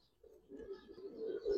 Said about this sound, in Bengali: একদম নতুন কবুতর